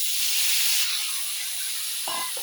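Pieces of pointed gourd (potol) frying in hot oil, a bright continuous hiss and sizzle, close and steady, ending with a couple of soft knocks.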